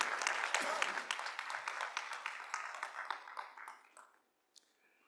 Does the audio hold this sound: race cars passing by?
no